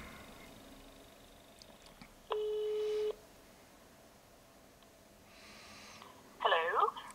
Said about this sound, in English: if I press the button and if she is there, she would hopefully pick up the phone